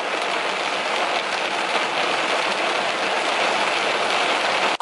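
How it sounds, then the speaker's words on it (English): Heavy monsoon-like rain downpour, a loud, dense, unbroken roar of drops hitting surfaces that stays constant throughout, with no voices. "The rain's gone. That was like a monsoon."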